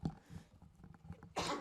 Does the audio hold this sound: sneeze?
yes